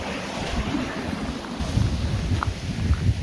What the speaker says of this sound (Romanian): Să vedem cum arată și de jos cascada asta.